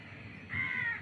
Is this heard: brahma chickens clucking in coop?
no